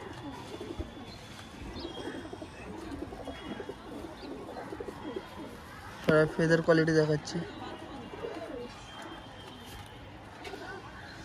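Homer pigeons in a pigeon shop coo over a busy background murmur, with one clear, rolling coo close by partway through while someone talks throughout.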